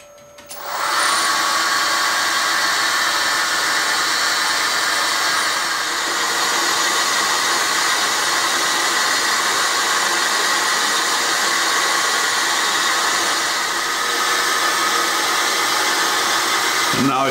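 An endmill takes an 8 mm deep cut, a loud, steady, high-pitched machining whine that starts abruptly and holds constant throughout, with a faint voice underneath.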